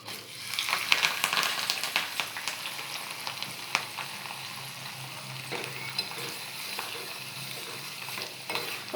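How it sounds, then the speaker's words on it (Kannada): Curry leaves dropped into hot oil sizzle and crackle steadily, with a louder burst of spitting at first that settles into a continuous fry, alongside occasional stirring clinks. "ಚೆನ್ನಾಗಿ ಎಣ್ಣೆ ಕಾದಿದೆ ಅಲ್ಲ, ಕರಿಬೇವು ಹಾಕಬೇಕು"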